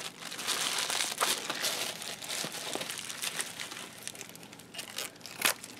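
Crinkly plastic packaging around artificial flowers being unwrapped, a steady stream of close crackling and rustling with sharper crisp bursts, fairly quiet and without speech.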